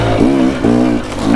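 A 300 two-stroke dirt bike engine revs on the throttle in quick repeated bursts, close and loud, each blip climbing and falling in pitch with a raspy buzz.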